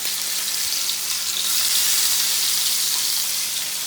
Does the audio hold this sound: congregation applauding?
no